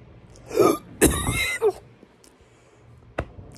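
A person fakes a cough: two rough, throaty bursts close to the listener, the second longer, followed by quiet with a faint click.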